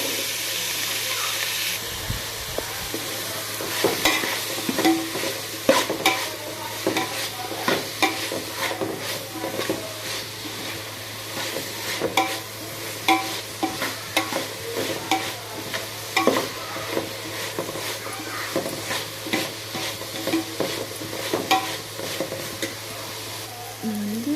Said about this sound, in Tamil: அந்த நறுக்கி வச்ச காயை வந்து நம்ம சேர்த்துக்கலாம் சேர்த்து நல்லா வதக்கி விட்டுக்கலாம்